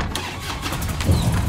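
A video game motorcycle engine cranks and catches, rumbling up to a steady growl over about a second and a half, close and loud.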